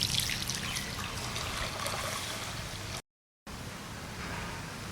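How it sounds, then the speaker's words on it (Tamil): Water pours steadily into a cooking pot in a trickling stream, close and continuous, cutting off briefly before resuming. "இப்போ இதுக்கு தேவையான அளவுக்கு நம்ம தண்ணி ஊற்றிக்கலாம்."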